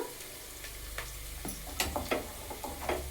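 Onion and tomato pieces fry in a pan for tomato rice, giving a steady close sizzle with a few sharp ticks and stirring scrapes, and no voices.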